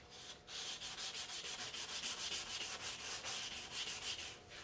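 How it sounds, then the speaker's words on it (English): Fine 600 grit sandpaper rubbing in quick, even back-and-forth strokes over a plastic scale model saucer, close and soft, with no voices. "we'll switch to some 600 grit paper and we'll finish the final sanding on this"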